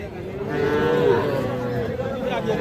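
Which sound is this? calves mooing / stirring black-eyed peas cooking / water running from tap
calves mooing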